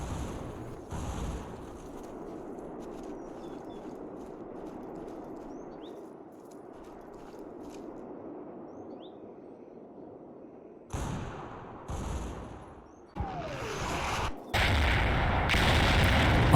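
Artillery falls in the war game Combat Mission Fortress Italy, with a low distant rumble of bombardment that gives way to several loud, close booming impacts near the end.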